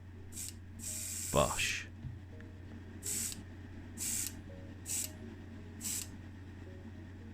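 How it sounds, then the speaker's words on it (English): Paint hissing from a freshly overhauled airbrush in short bursts, one longer spray followed by four brief evenly spaced puffs, close and clear over a low background hum; a single word is spoken near the start. "You might actually notice here the velocity that the paint is coming out of my airbrush."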